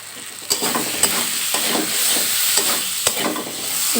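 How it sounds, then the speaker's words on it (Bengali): Chili powder and turmeric sautéing in a pan for an egg and potato curry, a loud continuous sizzle with regular spoon scrapes roughly every half second, no voices. "আমি কিন্তু কষাবো অনেকটা সময় ধরে"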